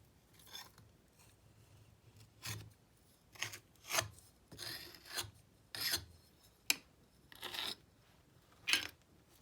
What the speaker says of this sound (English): then you want to scrape the excess off